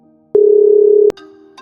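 A telephone handset gives a steady, loud tone lasting under a second as a call is placed, cut off by a click, followed by faint electronic tones.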